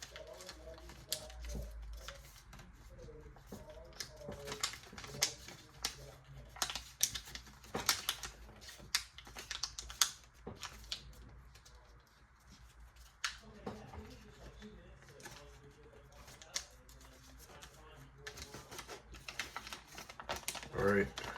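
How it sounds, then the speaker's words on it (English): Paper being folded into an origami aircraft model with a rabbit ear fold, faint crisp crinkles and sharp creasing taps scattered throughout, quiet and close, with a person speaking over it. "Just going to make a rabbit ear fold here."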